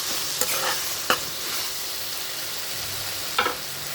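Curry sizzles and fries in a pan with coriander added, a steady soft sizzle broken by a few sharp clinks and scrapes of stirring.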